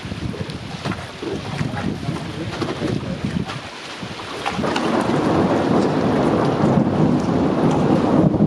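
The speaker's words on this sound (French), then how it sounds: "l'orage est passé sur nous" Thunderstorm passing over a lake during a bass and pike fishing trip at Orellana, with steady rain and rumbling thunder; a low rumble early, then rain grows louder and denser, with wind buffeting the microphone.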